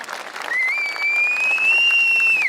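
A crowd at a CHP political rally in Yazıhan, Malatya, breaks into loud sustained applause, joined by a rising whistle that holds above the clapping to the end.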